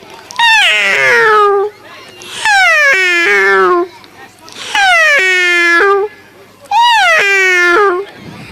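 A human voice imitates a cat during a mimicry act at an annual day event, giving four drawn-out, whiny meows separated by short pauses, loud and close.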